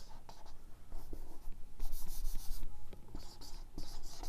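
Chalk or marker on a classroom board makes close scratching and tapping strokes in short bursts, with quiet breathy sounds between strokes.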